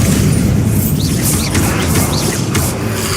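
Bombarda blast spell from the Hogwarts Legacy video game, a dense, loud booming rumble that fills the whole stretch with heavy low-end crashes and a few faint swooshing effects on top.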